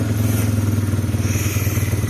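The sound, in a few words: lawnmower engine running rough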